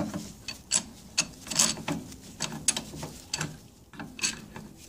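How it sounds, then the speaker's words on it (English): A pipe wrench turns the drive shaft of a 1979 Evinrude 55 HP outboard gearcase, producing a close series of irregular metallic clicks and ratcheting scrapes about every half second. "So I'm going to use a pipe wrench."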